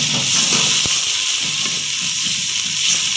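Onion fries in hot oil, a close, even hiss of sizzling with a single sharp tap or pop early on and no talking.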